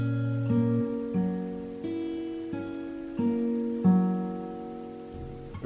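An acoustic-toned guitar plays the closing chords of a lesson progression, strummed one at a time at a steady, unhurried pace. Sustained notes ring on between changes, alone and fairly quiet.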